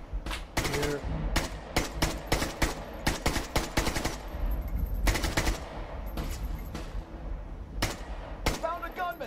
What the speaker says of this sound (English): Yeah, very sporadic machine gun fire.